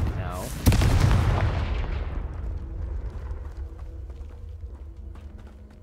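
In the video game Hogwarts Legacy, a Confringo spell detonates with one sharp, loud blast that rolls into a long rumbling decay, with faint crackling debris trailing off.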